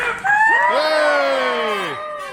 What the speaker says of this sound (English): raise a mighty cheer for Her Majesty the Queen